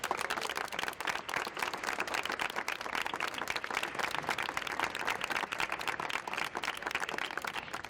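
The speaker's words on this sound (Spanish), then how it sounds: "Así que vamos a aplaudir." A crowd applauds outdoors in steady, dense clapping that holds at an even level throughout, with no talk over it.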